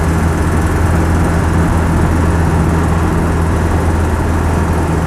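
A Land Rover 90 2.5TD diesel engine runs steadily with a low rumbling drone and a faint chuffing from a slight exhaust manifold blow, continuous and close with no voices.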